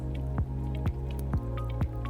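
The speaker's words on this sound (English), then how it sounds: "this is just olive oil, and I'm gonna pour this over the garlic cloves" Olive oil poured over garlic cloves packed tightly into a container, heard as a series of four soft, wet drips and squishy plops at a slow, steady rhythm, close and fairly quiet.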